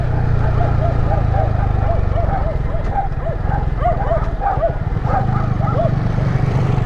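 A dog barks repeatedly in quick yips beside a rural concrete trail among open fields in Muzon, Maragondon, Cavite, over the steady drone of a motorcycle engine, with people talking throughout.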